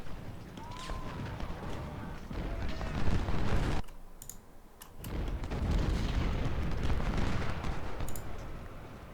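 Cannon fire in the video game Ultimate General Civil War during an Antietam battle, heard as dense, continuous rumbling booms and crackling bursts with a short lull midway.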